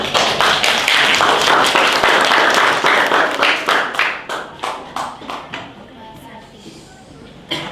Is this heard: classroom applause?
yes